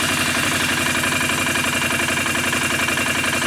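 A 2008 Can-Am 500 HO EFI ATV engine idles steadily up close, a loud even low putter with a quick regular pulse and no talking.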